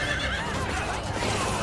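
A horse in the video game Fire Emblem: Three Houses gives a short, loud neigh over busy game sounds.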